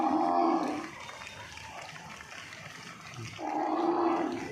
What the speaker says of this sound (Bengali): এই দর্শকে যাচ্ছে গরুর পাল